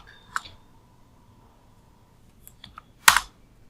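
A few sparse, crisp keystrokes on a computer keyboard while typing a sudo ufw enable command on Linux: one tap early, a quick cluster later, then a louder final key press, with long quiet gaps between.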